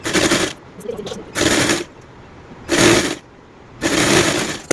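A sewing machine stitches the cuff of a small child's dress in four short, close bursts of rapid whirring, each separated by brief quiet gaps.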